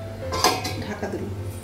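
A metal lid comes off a cooking pot with a quick clink and scrape near the listener, then fades into soft kitchen clatter over a low steady hum.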